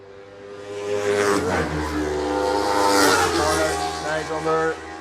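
A road racing motorcycle at the Cookstown 100 road races roars past at speed, loud and close, its engine note rising and falling as it goes by, with a commentator talking over it.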